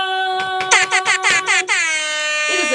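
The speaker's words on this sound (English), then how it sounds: "cars are honking" Loud horn blasts sound during a stage skit at a senior acting night: a rapid run of short, choppy honks, then one long sustained blast that drops in pitch at the end. No talking is heard.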